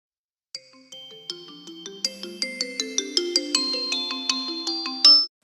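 A mobile phone ringtone plays unanswered, a bright melodic sequence of chiming electronic notes repeating in a rising pattern, clear and close in an otherwise silent room.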